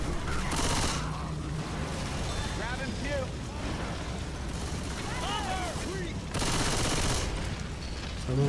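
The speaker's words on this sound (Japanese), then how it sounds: "サブマシンガンいいね。" Bursts of submachine gun fire in the zombie shooter Left 4 Dead 2, heard as a few loud rapid volleys between quieter stretches of game noise and talk.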